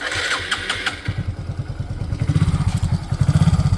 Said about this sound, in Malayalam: ഈ ഓണാക്കാൻ നമുക്ക് സെൽഫ് ഒന്ന് അടിച്ചു നോക്കാം